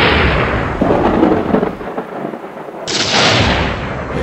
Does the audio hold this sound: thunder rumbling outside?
yes